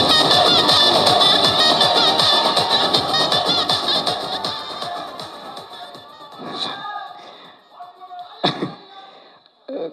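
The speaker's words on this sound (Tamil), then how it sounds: "ஒரு பெரிய கைத்தட்டல் கொடுத்து அவரை நம்ம மேடையை கூப்பிடலாம்." Large audience at a film pre-release event cheering and clapping loudly as the hero, writer and director is welcomed on stage; dense crowd roar that fades toward the end with a few sharp shouts and thuds.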